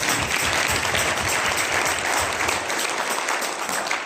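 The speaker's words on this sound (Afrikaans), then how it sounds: "Al wil jy nie nog een oomblik net vir die Here hande klap." A church congregation claps in praise during a service, a dense, steady wash of many hands clapping together for several seconds with no talking over it.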